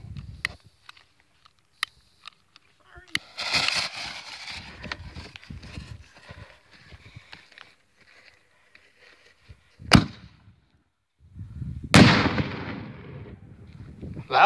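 A ZM artillery ball firework shell, set in a candle tube buried in dirt, launches with a thump and later bursts in sharp, loud reports, while clicks, rustling and brief voices come and go between them.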